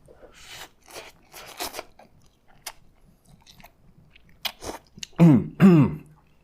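Crunchy bites and chewing of spicy ramen noodles eaten from an ice cream cone, close and intermittent, with soft mouth noises and a couple of louder crunches near the end.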